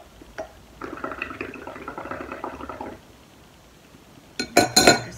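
Bubbles gurgle as air is blown through a straw into a glass of liquid, a close, bubbling burst lasting about two seconds, followed by a few sharp clinks against the glass.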